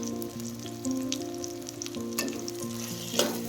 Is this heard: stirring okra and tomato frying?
yes